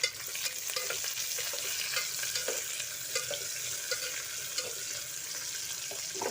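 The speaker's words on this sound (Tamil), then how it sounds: "வெங்காயம் போட்டு ஒரு 2 நிமிஷம் நல்லா வதக்கி விடுங்க, பொன்னிறமாக ஆகிற வரையும்." Onions sauté in a pan for vegetable biryani, giving a steady frying sizzle with occasional stirring clinks and scrapes, close and moderately quiet throughout.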